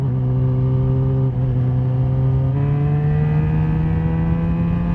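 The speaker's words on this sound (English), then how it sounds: "The second thing that I noticed once I started to pull away was the engine is really smooth." A Yamaha XJ6 inline-four engine, originally from an R6, hums smoothly and steadily. The revs climb in gentle steps as the bike pulls away, a continuous droning tone heard from the rider's position.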